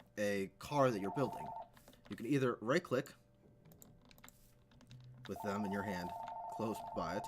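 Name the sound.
telephone ringing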